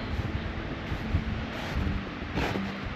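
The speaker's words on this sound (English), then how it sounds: "It's a little windy up here." Steady wind buffeting the microphone outdoors on the Lake Agnes hike, a continuous broadband rush with low rumbling gusts throughout.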